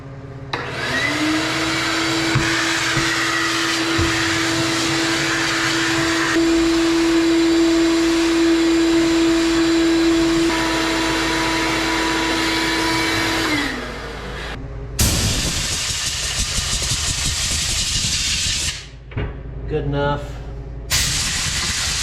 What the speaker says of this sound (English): vacuum out, clean up our mess for the most part.